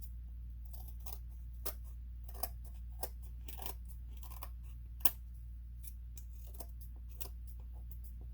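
Scissors snip through paper while trimming a storybook journal page, giving a sparse series of crisp, close cuts at uneven intervals over a quiet low hum.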